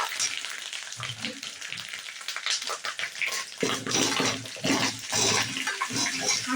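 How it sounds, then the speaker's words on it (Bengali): Potatoes fry with ginger in a pan, a steady close sizzle with stirring scrapes and bubbling that swells louder in the second half. "আলুগুলো দিয়ে আমি আদার সঙ্গে ভাজতে থাকছি"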